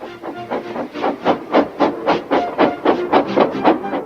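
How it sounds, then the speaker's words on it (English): A steam engine chuffs in a steady, rhythmic series of loud hissing puffs, close and continuous, as it blows off steam while getting ready to back onto a train. "Gordon, with much noise and blowing of steam, got ready to back onto the train."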